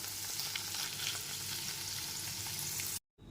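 Paneer pieces fry in oil with a continuous close sizzle and faint bubbling that runs steadily before cutting off abruptly into silence near the end.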